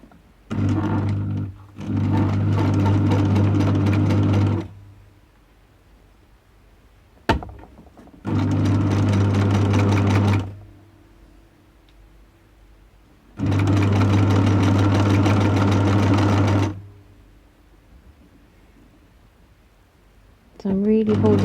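Sewing machine stitching a seam on a stretch top, running in several long steady bursts of several seconds each, with quiet pauses in between and a brief thunk.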